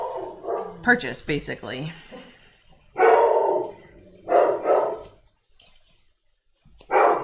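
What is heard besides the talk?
dog barking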